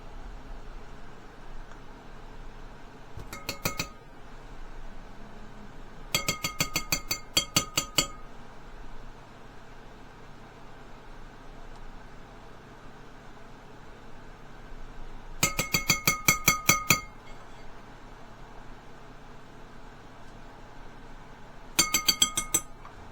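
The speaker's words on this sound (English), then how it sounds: "we're going to mix it in with the oats and the protein powder" Peanut butter stirred into oats and protein powder in a bowl, heard as short bursts of rapid clinking of a utensil against the bowl separated by quiet pauses, close and fairly bright.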